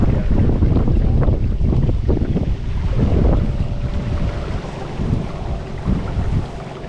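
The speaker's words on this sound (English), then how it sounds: "it's just so windy out here" Strong wind roars and buffets a microphone outdoors beside a creek, a steady low rumble with gusts that swell and ease throughout.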